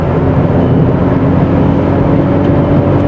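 A manual VW Polo TSI with a 1.0-litre engine pulls hard in third gear, its engine drone and road roar loud, steady and close from inside the cabin.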